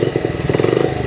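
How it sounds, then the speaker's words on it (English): A restored 1972 Honda Trail 70 motorcycle engine idles close by, its small single-cylinder putter steady and even with a faint mechanical clatter, running alone with no voices. "keep the engine running."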